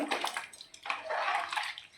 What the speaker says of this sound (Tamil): பட்டி தண்ணி ஊற்றிக்கலாம் நம்ம